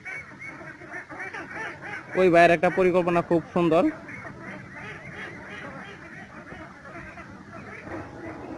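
Ducks on a pond shared with farmed catfish let out a loud burst of rapid, harsh quacks lasting a couple of seconds, close by, while someone talks steadily before and after.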